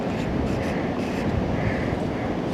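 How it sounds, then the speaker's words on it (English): A heavy, strong wind roars across an exposed trout water, a dense, unbroken rush buffeting the microphone at close range throughout with no speech. "it is a very heavy, strong wind"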